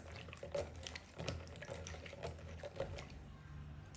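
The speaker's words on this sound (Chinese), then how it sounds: "再次的加入清水" Clean water is poured over red dates to wash them, a faint sloshing and trickling with small splashes in a quiet setting.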